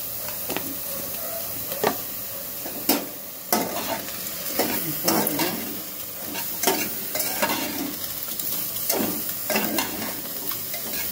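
Whole dry red chillies stirred in a pan with no oil, a light scratchy scraping with repeated spoon strokes at an irregular rhythm over a steady soft hiss, close by and fairly loud.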